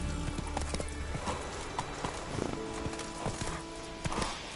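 Roach, a horse in the video game The Witcher 3, gallops with steady rhythmic hoofbeats, close and fairly loud, with a brief whinny mixed in.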